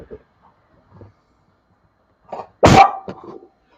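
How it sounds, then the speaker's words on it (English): A dog gives a single sharp, fairly close bark, preceded by faint scattered noises and followed by a couple of softer trailing sounds in an otherwise quiet outdoor setting. "Where's the dog? See the dog? There's the dog."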